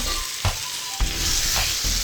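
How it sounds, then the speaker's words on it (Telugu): Ground raw tamarind and okra chutney hits hot tempering in a pan, giving a loud continuous sizzle broken by a few sharp stirring knocks. "తాలింపు ఫ్రై అయిన తర్వాత మనం ముందుగా నూరుకున్న పచ్చడి వేసుకోవాలి"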